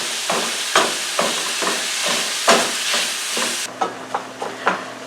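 Ground beef browning in a skillet while it is stirred, with a steady sizzle and repeated scraping strokes of a utensil, close and moderately loud; the hiss drops away near the end, leaving softer stirring taps.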